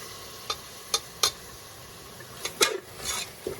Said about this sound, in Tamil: இது இப்போ ஒரு 2 மினிட்ஸ் வந்து நல்லா இப்படி வதக்கி எடுத்துக்கிடுவோம்